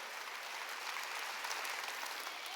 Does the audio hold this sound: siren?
no